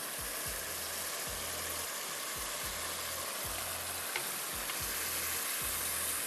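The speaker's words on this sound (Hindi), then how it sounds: "अच्छी तरह से भून रही हूँ जब तक कि घी ऊपर आ जाए" Fish frying in ghee with jaggery sizzles in a steady, dense hiss, with a faint low repeating hum running beneath it throughout.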